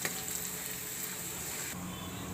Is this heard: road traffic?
no